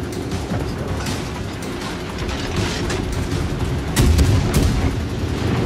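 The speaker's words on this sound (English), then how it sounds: "Okay, I did not lead those shots well at all." Warship naval guns fire in the game World of Warships Legends, a continuous dense rumble of booming salvos and explosions with a louder blast near the end, no talk.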